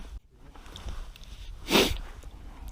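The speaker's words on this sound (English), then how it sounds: "Nose is sniffling." A single short, loud nasal sniff from a person with a runny nose outdoors while fishing, standing out from quiet background ambience.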